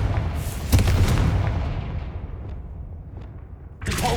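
In the Hogwarts Legacy video game, a Confringo spell goes off with a loud, booming blast that rolls away into a fading rumble, followed by a quieter magical burst at the end.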